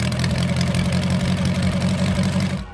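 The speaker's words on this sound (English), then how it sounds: "I start the car up" An 81-year-old four-cylinder car engine idles through straight pipes, a loud, steady, close throbbing rumble with a quick rhythmic pulse that holds evenly before cutting off at the very end.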